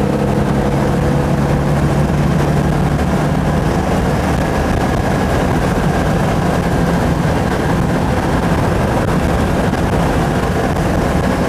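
Citroen 2CV with a freshly rebuilt engine out on a test drive, its loud, steady engine drone blended with road rumble and wind, continuous and close, with no talking.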